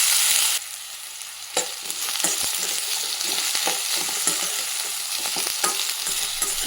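Raw banana pieces fry in hot oil, giving a steady crackling sizzle broken by scattered sharp pops and stirring clatters, close by with no talking.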